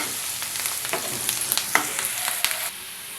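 Onions and green chillies frying in a pan, a close crackling sizzle with a series of sharp spatula taps and scrapes that drops to a softer hiss near the end.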